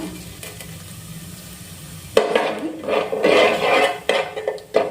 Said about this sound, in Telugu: ఇలా మిక్స్ చేసుకుందాం